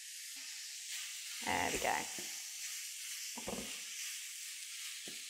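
Garlic hits a hot frying pan with beef and sizzles steadily, a bright hissing fry under a short spoken remark, with faint stirring scrapes along the way.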